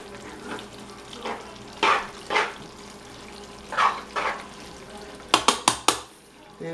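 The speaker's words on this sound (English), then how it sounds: "Stir it all around, get the shrimps in there." Shrimp fry in butter in a pan and get stirred around, several swishing scrapes over a light sizzle, then a quick burst of four sharp clinks of a utensil against the pan.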